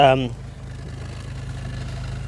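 A Vauxhall Cavalier MK2 with an S16SH engine and a misfire runs at a steady idle, its exhaust giving a low, even rumble with a faint pulsing throb after a brief burst of voice at the start.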